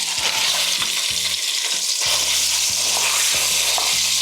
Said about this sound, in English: Okay, next up I'm adding in our sausage meat.